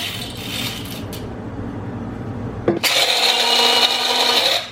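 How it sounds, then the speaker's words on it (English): Coffee beans being ground for cold brew: a faint rasping scrape, then a loud, steady whirring grind that runs for a couple of seconds before cutting off. "I'm just gonna grind up the rest of these beans"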